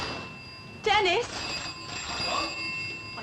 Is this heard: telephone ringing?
yes